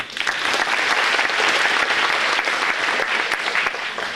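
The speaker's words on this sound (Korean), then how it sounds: "박수!" Audience applause at a school general assembly in a hall, steady dense clapping from a crowd that stays loud and even throughout.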